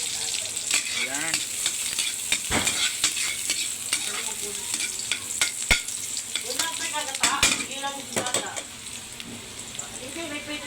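Food sizzles and crackles steadily in a hot pan, with occasional clinks and scrapes of a utensil stirring, and faint voices in the background.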